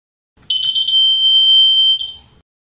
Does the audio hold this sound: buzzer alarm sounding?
yes